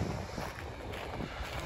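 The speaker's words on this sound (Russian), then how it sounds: "такой ветер сильный поднялся" Strong wind in Sochi buffets the microphone in a steady, rumbling roar, close and unbroken for the short stretch.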